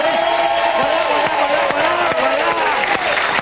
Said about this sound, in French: Sous la foule en délire, s'il vous plaît.